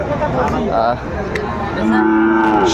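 Cattle moo at a weekly village livestock market in Dinajpur, with a long low call near the end over steady crowd murmur and chatter.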